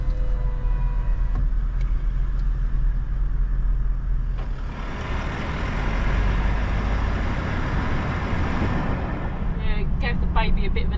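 A car crawls slowly in first gear over a rough, bumpy outback track on the way to Wallaman Falls in Australia, its engine droning low and steady and close, with rattles and jolts of the body and people talking inside.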